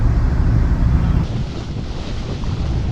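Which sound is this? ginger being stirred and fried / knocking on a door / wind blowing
wind blowing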